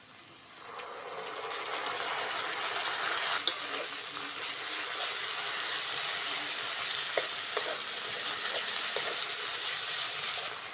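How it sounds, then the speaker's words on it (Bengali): Ginger, garlic and chili paste hits onions and green chilies frying in a pan, starting a bright, steady hiss with a sharp clatter early on and a few soft stirring ticks, no voices over it. "পেঁয়াজ আর কাঁচা লঙ্কা ভালো করে ভেজে নিয়েছি এবার দিয়ে দেবো আদা রসুন আর লঙ্কা বাটা"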